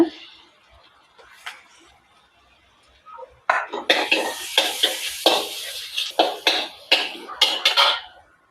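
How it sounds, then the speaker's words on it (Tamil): Ginger-garlic paste and curry leaves frying in hot oil in a pan for Jaffna chicken kottu: fairly quiet at first, then loud rhythmic scraping stir strokes over a bright sizzle for the last five seconds. "பேஸ்ட் கொஞ்சம் சேர்க்குறேன். கொஞ்சம் பொரியட்டும்."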